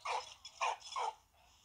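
A dog in the World War I video game Valiant Hearts: The Great War gives a few short whimpering yelps, three close, clear cries in a row followed by a fainter one.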